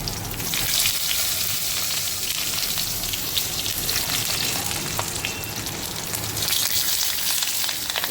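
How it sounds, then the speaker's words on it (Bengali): Paturi parcels frying in smoking-hot oil in a wok, giving a loud, steady sizzle with crackling spatter that holds evenly throughout, with no voices. "এইবার আমি পাতুরিগুলো এক এক করে"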